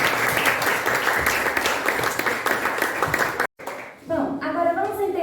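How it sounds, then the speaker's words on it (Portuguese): A crowd claps steadily for a few seconds, then the applause cuts off and a voice starts speaking. "Uma salva de palmas para ela, pessoal."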